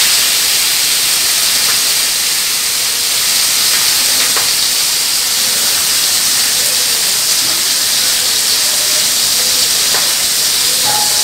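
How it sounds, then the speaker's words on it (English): Fish sizzling as it lightly fries in a pan, a loud, steady hiss that stays dense and unbroken throughout, with faint crackles scattered through it. "Now I'm going to fry these fish"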